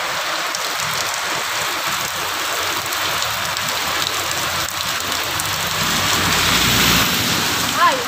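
Heavy rain pours outside during flooding, a dense, continuous hiss of water striking surfaces that swells slightly toward the end, steady and fairly loud throughout.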